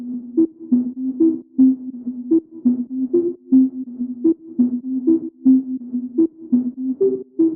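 Hollow, distorted synth tones from a drop pulse in a steady rhythmic pattern, each short note filtered and boxy, repeating alone with no voices.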